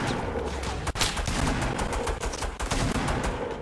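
Rapid drum gun fire rattles in a dense, continuous burst during a shooter video game match, loud and close with brief dips between volleys.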